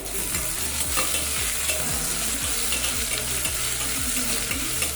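Two medium onions, sliced lengthwise, sizzle loudly in a pan for a vegetable biryani while a spoon stirs and scrapes them in repeated strokes, close up with no talking.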